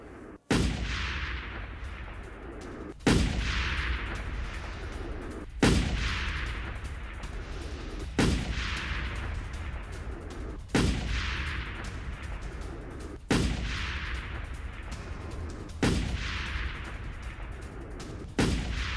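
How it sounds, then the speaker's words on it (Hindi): Israeli missile air strikes hit a residential area in northern Gaza: seven heavy, sharp blasts land about every two and a half seconds, each decaying into a long rumbling roar, with no voices. "रिहायशी इलाके में भीषण मिसाइल हमला हुआ है।"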